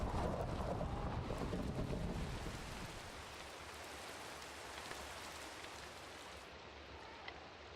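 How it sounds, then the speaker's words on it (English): Rain hisses steadily through a thunderstorm in the Minecraft video game, a soft, continuous wash that is denser for the first few seconds and then settles to a quieter, even patter. "A thunderstorm?"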